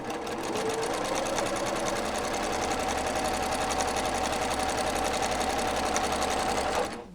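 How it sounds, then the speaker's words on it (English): A sewing machine stitches quilt block squares in one continuous, even run, close up and steady, with a rapid rhythmic needle chatter that stops just before the end. "You can see I've stitched just barely to the center of the block, 1 thread's width. And we do it again."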